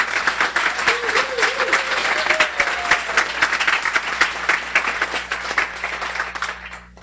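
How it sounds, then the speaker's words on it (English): Steady round of applause from a seated audience at a guide dog school graduation ceremony, dense clapping sustained for several seconds with a faint voice underneath, tapering off at the end. "a big round of applause for Alex"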